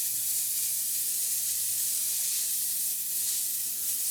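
An airbrush sprays paint onto paper in a model-making workshop, a steady close, bright hiss that holds evenly without pause.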